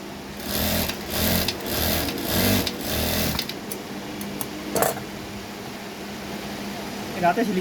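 A sewing machine stitching the neckline of a lined kameez, whirring in several short bursts up close, then stopping. Speech is heard alongside.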